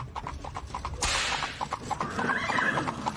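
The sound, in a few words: horse neighing, horse-drawn carriage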